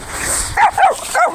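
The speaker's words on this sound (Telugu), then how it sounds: "కుక్క కూడా బాగా వస్తుంది, వస్తుంది ముందుకి." A dog outdoors in a village gives three quick, close, high yips or short barks in a row.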